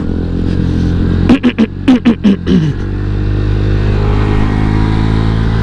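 A new Honda Vario 150 scooter on a test ride hums along with a steady engine drone, briefly punctuated by a quick series of throttle blips that rise and fall, heard up close with wind rush.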